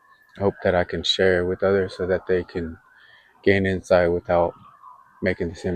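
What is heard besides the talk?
sirens in the distance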